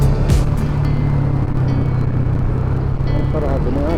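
Several motorcycle exhausts rumble together on a road trip, a loud, deep, steady drone close by with a brief rising rev, and people talk faintly underneath.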